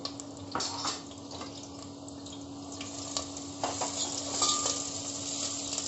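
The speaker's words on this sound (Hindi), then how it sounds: "सबसे पहले मैं डालूंगी इसके अंदर प्याज और प्याज को हम लाइट गोल्डन फ्राई कर लेंगे" Sliced onions frying in oil inside a pressure cooker, a steady close sizzle with occasional scraping stirs and faint clinks, heard alone throughout.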